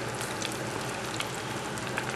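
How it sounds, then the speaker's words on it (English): Battered, dusted Rocky Mountain oysters fry in hot oil with a dense, steady crackling sizzle that stays close and continuous throughout. "and I'm frying them up, getting ready to put the tacos together."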